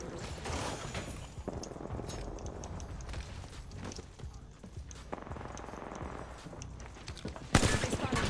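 Gunfire in the Apex Legends video game: dense bursts of rapid shots and scattered impacts over continuous action noise, with a sharp louder burst near the end.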